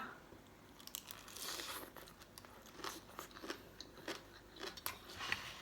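Crisp iceberg lettuce salad is crunched while eating, a string of soft, irregular bites and crackles heard close but faint.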